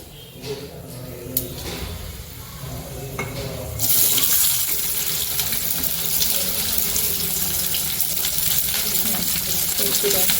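Chopped onion, green chilli and curry leaves hit hot oil that already holds chana dal and mustard seeds, setting off a loud, hissing sizzle that swells sharply partway through and then holds steady.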